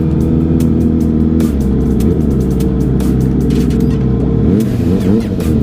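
Motorcycle engine revving up close, a loud sustained rumble with rising and falling throttle blips over about six seconds, no talk.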